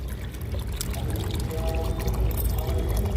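Water pours steadily into a container as tea is being prepared in a small home garden kitchen, a continuous trickling stream at close range with no talking.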